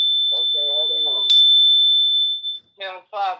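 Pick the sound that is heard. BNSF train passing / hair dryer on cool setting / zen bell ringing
zen bell ringing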